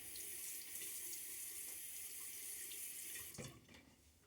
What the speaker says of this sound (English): I'm going to put a little water on my face.